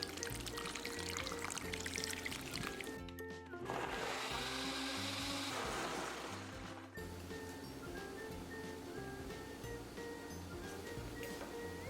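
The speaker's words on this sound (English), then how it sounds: "I'm gonna go with some coconut water for my smoothie" Coconut water poured for a smoothie, a steady liquid splash with a louder gush in the middle, continuous against a busy kitchen background with no talking.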